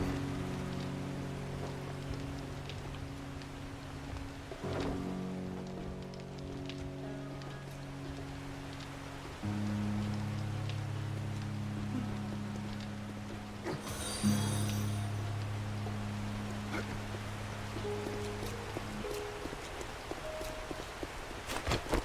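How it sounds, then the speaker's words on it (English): Rain falls steadily in the video game 7 Days To Die, a soft continuous hiss under low, sustained background music tones. The rain continues throughout the clip with no talking. "I'm gonna spend the whole day waiting for it to stop raining."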